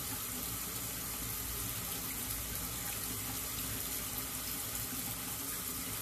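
Steady rushing water from a tap running into a sink while fountain pens are washed out, continuous and close with an even hiss, with no talking.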